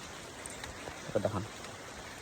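Steady rain falls outdoors on a walk to a parking area, an even wash of patter throughout, with a brief voice speaking partway through.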